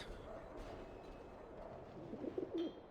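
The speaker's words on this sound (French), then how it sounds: "Un pigeon, oui." A pigeon coos in the video game Alice: Madness Returns, a few soft low coos near the end over a murky ambient game background, faint and without talk.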